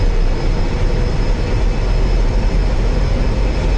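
Avro Vulcan jet engines in X-Plane 11 roar steadily at takeoff power, a loud continuous low rumble with a faint high whine, with no talk over it.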